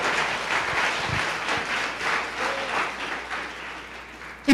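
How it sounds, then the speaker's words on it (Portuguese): A church congregation applauds, a fairly faint, steady wash of many hands clapping that carries on throughout with no speech over it. "Quer aplaudir, aplauda o Senhor."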